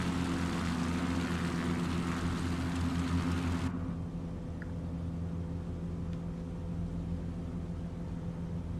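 Engine drone of a three-wheel X Cub propeller plane in a flight simulator game, a steady loud hum with bright high-frequency noise that cuts off abruptly midway, leaving a softer drone to the end.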